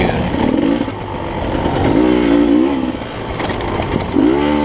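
Racing motorcycles roar loudly on a course in Leavenworth, Kansas, engines revving and rising in pitch through several surges as the bikes pull away, close and continuous with no talking.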